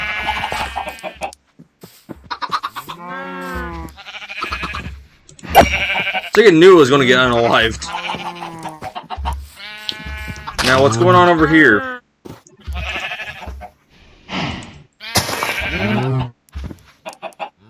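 Sheep bleating inside Minecraft amid clucking chicken noises, a sheep disguised as a chicken, with short repeated bleats and clucks popping up over and between steady talk from a man.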